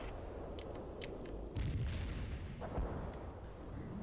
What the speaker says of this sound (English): Iceman heading out with cluster bombs